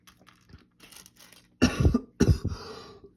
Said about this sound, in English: if y'all hear me coughing periodically throughout this